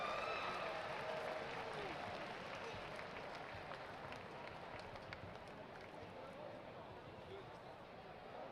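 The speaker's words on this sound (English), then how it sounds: "Let's give yourselves a big round of applause for all the excitement and enthusiasm." A big crowd at the US Sumo Open applauding, a dense wash of clapping and cheering that fades slightly over several seconds, with a voice calling out faintly above it.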